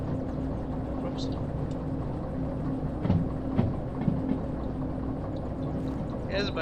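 A long five-car train rolls along track in the railway game Derail Valley, giving a steady low rumble and hum with a few soft clanks midway.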